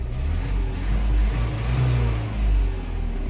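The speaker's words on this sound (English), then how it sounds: "I'm gonna rev the engine" Renault Megane III 1.5 dCi diesel engine revved while the car sits idling with a suspected sensor fault, a steady low rumbling drone swelling in two or three rises and falls, close and loud with no talking.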